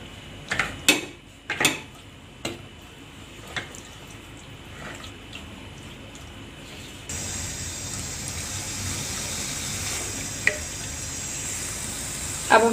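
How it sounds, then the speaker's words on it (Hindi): Marinated chicken goes into a kadhai, a few loud clattering knocks and drops, then a steady hiss of sizzling that continues evenly, with a sharp clink near the end. "अब एक कढ़ाई के अंदर हम ये सारा चिकन डाल देंगे।"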